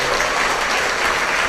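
A church congregation at a prayer service claps together in a dense, steady burst of applause, loud and sustained, with no voices standing out.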